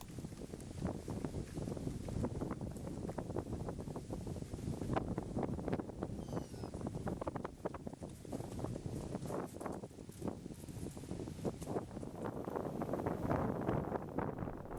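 Strong wind batters the microphone beside a river, a dense, continuous roar with constant gusting buffets and no letup.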